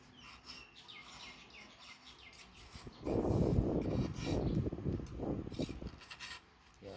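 A blade scrapes repeatedly along a stiff palm leaf stem being whittled into strips, with rhythmic shaving strokes that grow louder and rougher midway, and faint bird chirps in the background.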